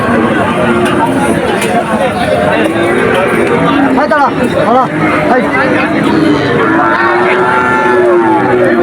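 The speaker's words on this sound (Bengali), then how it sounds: "প্রচুর পরিমাণে গরু এই হাটে আছে।" Cattle lowing at a busy village cattle market in Betaga, where calves and cows are sold; a few drawn-out moos rise over a steady, dense crowd hubbub, with people talking throughout.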